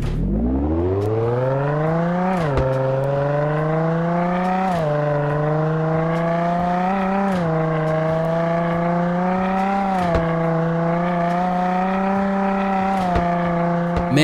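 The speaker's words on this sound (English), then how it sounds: "let's take some time to appreciate the sound of this car." A Ford Raptor 6x6 engine in the video game Car Dealership Tycoon, loud, close and alone, revving up through several rising gear pulls, each climb cut by a brief shift before the pitch rises again.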